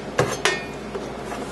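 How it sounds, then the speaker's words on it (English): Cover being lifted off the user interface panel of an XLS machine after its screws are out: two sharp plastic clacks in quick succession, close and fairly loud, then a quiet handling rustle. "Once the screws have been removed, you should be able to remove the cover."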